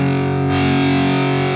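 Guitar amp driven into overdrive by a Suhr Riot Mini pedal, the hot signal breaking up the preamp tube: one sustained, dense, gritty distorted chord holding steady at full level, with no voice.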